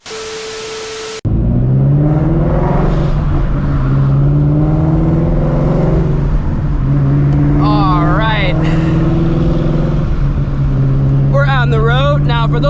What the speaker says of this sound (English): As you guys can hear right now, as you guys heard from the cold start, this car does have a Pro Charger on it.